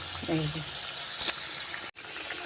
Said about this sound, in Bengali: এই দেখো বন্ধুরা এখনও ভাজা হচ্ছে